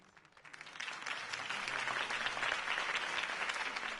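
A crowd bursts into applause, starting softer and swelling into steady, sustained clapping that fills the space.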